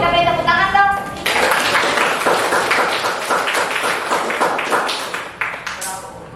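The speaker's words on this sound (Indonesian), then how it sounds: "kelompok putri kita beri tepuk tangan dong" A classroom of students claps for a group of girls coming to the front. A teacher's voice opens the clip, then dense, uneven clapping fills the room and tapers off.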